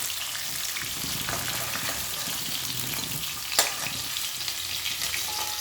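Hilsa fish sizzling in hot oil, a steady crackling hiss with a brief sharper clatter partway through.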